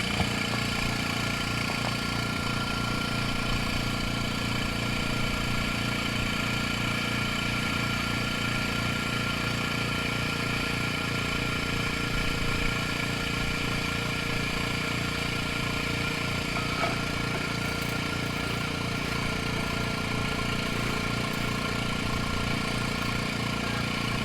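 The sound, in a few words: pump running while filtering gold powder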